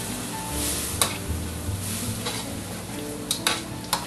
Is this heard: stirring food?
yes